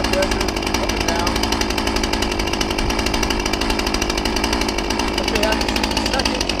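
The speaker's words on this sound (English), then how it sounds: "So you can hear the saw adjusting." A "C" chainsaw runs steadily after a cold start, its loud, close engine drone holding at a constant buzzing pitch with a slight rhythmic pulsing as the solenoid-controlled air adjustment settles the idle.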